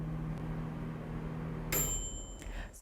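A microwave oven reaches the end of its timer while cooking dumplings, its steady hum giving way to a bright, loud electronic beep tone that rings out alone near the end.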